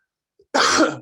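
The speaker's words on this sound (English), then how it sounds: "I'm so sorry about coughing on y'all" A single harsh cough bursts out after a brief quiet moment, close and loud, trailing off with a rasp.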